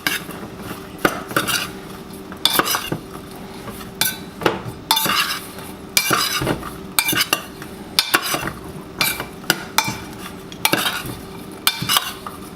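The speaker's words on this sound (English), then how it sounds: "we're just going to toss that. Try to keep it in the bowl." Chopped pepper and other ingredients being tossed in a mixing bowl while making a Spanish-style chorizo tortilla, giving a steady run of scraping and clinking of utensil on bowl, close and fairly loud, with no talking.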